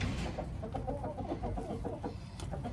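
Hens, including a white-crested chicken, cluck softly and repeatedly in a backyard coop, a close, uneven run of low murmuring calls with no speech.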